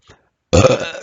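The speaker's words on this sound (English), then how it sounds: "There's no way I can cut this burping out." A single loud, close human burp, low and rumbling, lasting about half a second after a brief faint sound.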